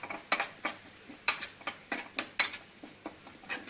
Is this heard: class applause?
no